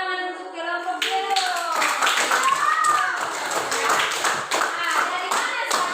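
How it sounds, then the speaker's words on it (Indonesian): A group of people breaks into lively applause, with dense clapping continuing over voices and excited calls after a short moment of talk. "tepuk tangan untuk kelompok dulu"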